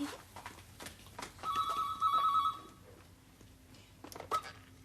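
A telephone bell rings in two short warbling bursts indoors, moderately loud, with a brief chirp afterward and quiet room noise around it.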